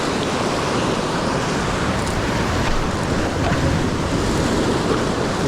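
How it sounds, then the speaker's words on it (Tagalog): Big ocean waves around a fishing boat at sea, a loud, continuous roar of surf and wind buffeting the microphone, steady throughout with no break. "Yan na yung alon malalaki guys."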